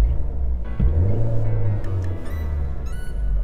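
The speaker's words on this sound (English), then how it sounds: "Very easy to rev. It is pretty easy to rev." Engine of a 2018 Chevrolet Malibu LT revving up, a low steady drone that swells and holds for about two seconds before easing off, heard close and alone.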